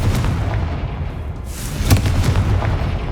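A Confringo spell blast in Hogwarts Legacy: a sustained rumbling fiery burst with a sharp boom near the middle and smaller pops after, loud and close, with no talking.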